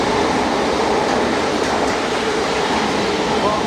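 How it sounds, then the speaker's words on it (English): A train runs through Whitton Station, heard up close as a loud, continuous rumbling roar of wheels and carriages that holds steady from start to finish. "the train coming through"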